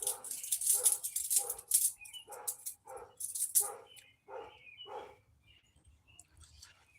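A dog barks in a rapid series of about ten sharp, close barks, then trails off into fainter whines and quiet as a neighbor walks another dog past.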